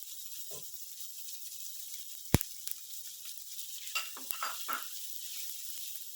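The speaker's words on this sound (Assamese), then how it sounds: "এইখিনি প্ৰায় 4-5 মিনিটমান সময় কম জুইত ঢাকনি দি ভাজিব লাগিব" Grated beetroot and carrot fry in a pan, giving a quiet, steady sizzle broken by stirring scrapes and one sharp utensil clank against the pan.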